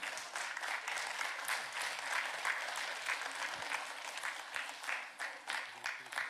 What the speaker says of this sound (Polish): Wielkie, wielkie brawo.